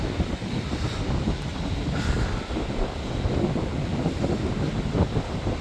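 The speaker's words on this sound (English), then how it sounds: "See, the waves are a little bit" Ocean waves roll onto a beach on Fuerteventura beside volcanic rock, making a steady rushing roar mixed with wind buffeting the microphone.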